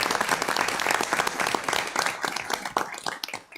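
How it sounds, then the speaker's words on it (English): An audience at a city council meeting applauds the public works employees with steady, dense clapping that fills the room evenly throughout, with no talk over it. "Can we give our public works employees a round of applause?"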